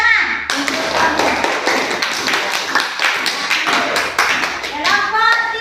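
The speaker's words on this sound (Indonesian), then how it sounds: "Tepuk tangan." Children clap hands together in a classroom, a dense burst of sharp taps lasting several seconds, with voices chattering faintly underneath.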